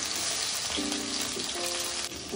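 Chopped greens, mint, tomato and vegetables sizzle steadily in a hot pan for vegetable pulao, a continuous close frying hiss with faint clinks and no talk.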